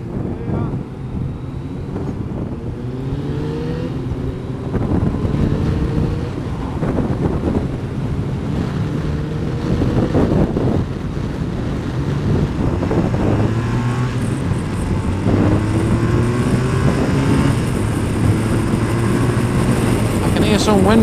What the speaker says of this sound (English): Some wind coming through us.